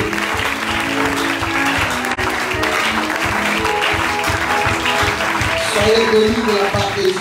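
A church congregation applauds steadily and continuously, the clapping blending with voices and music in a lively, reverberant room.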